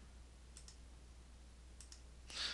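A computer mouse clicks faintly while text styles are changed in drafting software: two quick double clicks a second or so apart, then a soft rustle at the end, with no talking.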